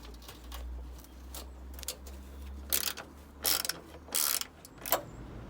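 A ratchet works loose 10mm bolts on the front end of a Ford Focus, faint clicking and metallic rattles building to several louder bursts of ratcheting and clanks near the end, close by with no speech.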